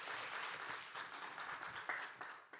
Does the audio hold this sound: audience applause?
yes